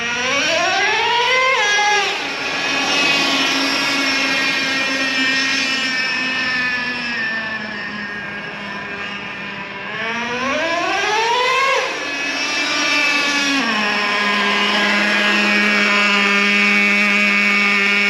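A Traxxas Revo 3.3 nitro RC truck engine, running on TNR fuel during break-in, screams loudly and close, revving up twice in rising whines before settling back to a steady high-pitched idle drone.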